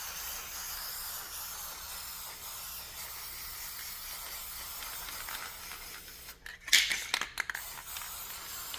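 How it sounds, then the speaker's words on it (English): Short bursts of red aerosol spray paint hiss from a nearly empty can onto wooden pieces in the second half, a few quick sputtering blasts against a steady low background hum. "I decided I might as well just spray some of them red as well."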